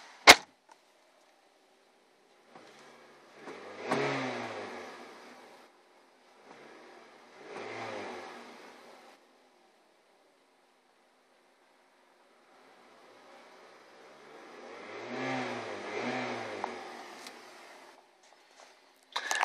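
Muffled 2003 Toyota Highlander engine revs heard with the door shut come in separate bursts, three short rises and a longer final one, with quiet pauses between and a couple of sharp clicks.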